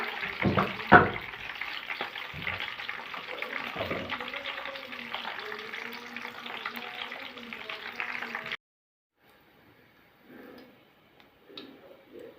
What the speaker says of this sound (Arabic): هنقلي الفلفل